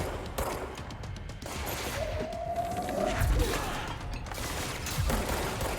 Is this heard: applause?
no